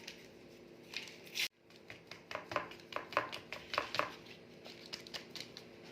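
A spoon works through basbousa batter mixed with flour and baking powder in a bowl, making repeated close scraping, slapping strokes in an uneven rhythm after a brief sharp knock.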